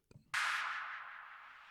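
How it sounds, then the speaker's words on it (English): A whoosh transition effect sweeps in sharply after a brief low thump, then decays gradually as a bright, airy rush that tails off over about a second. "got like a bit of a whoosh"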